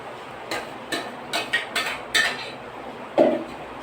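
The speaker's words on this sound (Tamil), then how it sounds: "நல்லா வேக வச்சு அதை வந்து நம்ம வடிகட்டிக்கணும் நல்லா திப்பி இல்லாத வடிகட்டிக்கணும்" Cooked tomato puree is worked through a metal sieve, producing about seven sharp clinks and scrapes spaced roughly half a second apart, close and distinct, ending with a louder knock, no talk.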